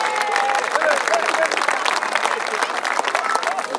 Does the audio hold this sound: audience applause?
yes